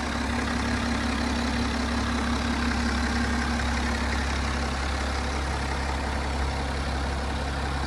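The diesel engine of a BMW 330d M Sport Touring idles steadily, a constant low rumbling drone with an even, unbroken hum throughout.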